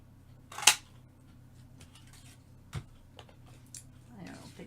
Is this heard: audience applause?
no